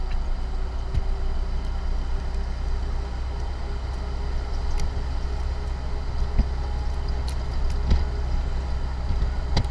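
A 1948 CJ-2A jeep engine runs steadily while driving, a low continuous rumble with road and wind noise, fairly loud and even throughout with a few faint knocks.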